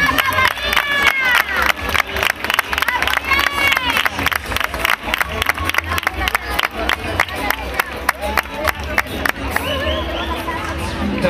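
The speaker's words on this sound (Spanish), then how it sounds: "Un aplauso para ellas." At an award event on a stage, a crowd breaks into loud, sustained applause with cheering, many hands clapping rapidly while voices rise through the noise.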